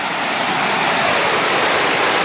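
A waterfall roars in a loud, steady broadband rush, close by and continuous, with no voices over it.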